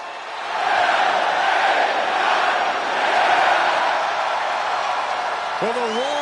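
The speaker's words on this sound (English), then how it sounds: "the roar of the crowd tells you all you need to know" Video game arena crowd roars for wrestler LA Knight's entrance in WWE 2K25, a sustained, loud wall of cheering and shouting that holds steady for several seconds, with a brief tonal cue near the end.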